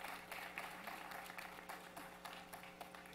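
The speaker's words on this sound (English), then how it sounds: "You can clap." An audience at a digital healthcare press event in Massachusetts gives faint, scattered applause that holds steady for a few seconds without any speech.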